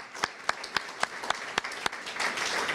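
Scattered clapping from a luncheon audience at the Tower Club, a handful of distinct sharp claps at first, then thickening into a brief wash of applause toward the end.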